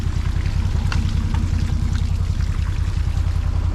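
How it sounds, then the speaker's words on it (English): Irrigation water streams and splashes from a center pivot pipe over a field, a steady close pouring with a low rumbling undertone and scattered droplet patter. "little water streams goes where it's supposed to go."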